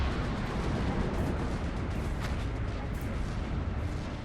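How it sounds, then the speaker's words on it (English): A Panzerwerfer rocket barrage in Steel Division: Normandy 44, a dense, steady roar of overlapping launches and distant impacts that fills the whole stretch without a break. "I'd ordered another Panzerwerfer barrage on the hilltop"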